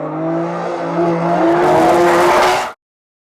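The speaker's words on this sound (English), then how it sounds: "Every day drifting, getting sideways, but as you can see, they're awesome vehicles." Drift cars, a Supra and an Infiniti, sliding sideways at a drift event, tires squealing loudly in a sustained, rising screech over engine roar before cutting off abruptly.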